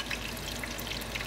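Cheese frying in a pan in a home kitchen gives a soft, steady sizzle with faint crackles throughout, low in level and with no one talking.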